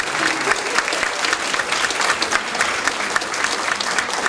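A banquet audience gives a round of applause, dense and continuous clapping from many hands at moderate distance, steady throughout with no talk over it.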